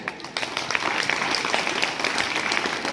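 Students at a government senior secondary school applaud their teachers, a dense, steady wash of many hands clapping together from a crowd.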